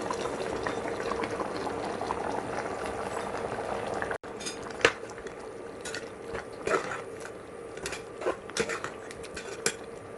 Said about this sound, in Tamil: ஒரு 2 நிமிஷம் இந்த மசாலாலேயே சேர்த்து மட்டன் குக் ஆகட்டும்.